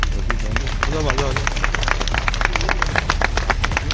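Applause from an audience at a police commissionerate event in Jodhpur, with dense rapid clapping running steadily throughout alongside crowd murmur and some speech.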